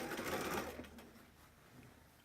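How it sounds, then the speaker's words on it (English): Sewing machine stitching a butted quilt seam, a quick whirring run loudest at the start that fades after about a second into faint low mechanical hum. "Here is a seam that's going to butt up together. And we're going to sew."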